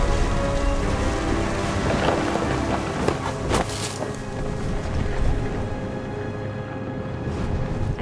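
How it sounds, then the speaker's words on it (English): Stormy weather in What Remains of Edith Finch, with steady rain and rumbling thunder at a beach by the sea, a dense continuous wash with a few sharper cracks near the middle. "The thunder sounded much too close and full of angry power."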